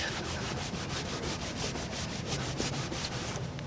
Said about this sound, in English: I'm just gonna go any direction that feels right to me, doing the old elbow grease trick.